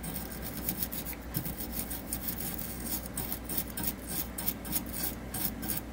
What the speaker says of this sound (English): So I've got a paintbrush here that's got stiff bristles. See if we can just sort of scrub that off.